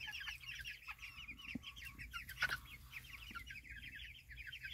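Frizzle and silkie chickens cluck in quick, overlapping bursts, a busy flock sound that stays fairly close and constant, with a few soft knocks underneath and no talking.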